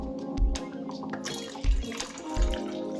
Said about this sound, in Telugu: ఇప్పుడు చింతపండు రసం యాడ్ చేసాం కాబట్టి కొంచెము వాటర్ యాడ్ చేద్దాం.